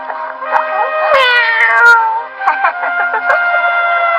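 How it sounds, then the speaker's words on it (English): A kitten in an English-dubbed anime meows several times up close, with a long, rising then falling cry in the middle followed by shorter chirping mews, fairly loud and clear against a quiet background. "You found a kitty cat."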